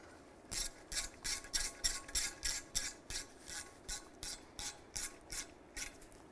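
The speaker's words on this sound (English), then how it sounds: "Take a 7mm socket, tighten these down." A ratchet with a 7mm socket tightens exhaust manifold studs on a 2002-2009 Chevrolet Trailblazer, giving about fourteen evenly spaced rasping strokes, close and moderately loud, with no talk.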